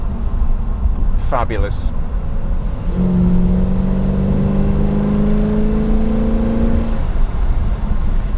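Carburetted V8 in an Aston Martin Lagonda Vantage bellowing through a sustained rev, a loud steady low roar with rising harmonic tones for several seconds, a brief word spoken early on.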